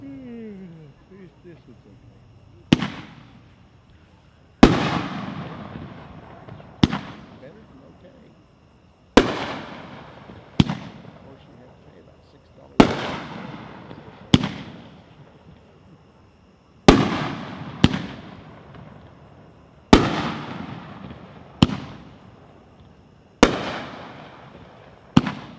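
A 9-shot Cousin Eddie fireworks cake fires at a National Fireworks Association convention demo, sending sharp booming bursts at irregular intervals, each trailing into a crackling decay, loud and fairly close, with a voice briefly audible at the start.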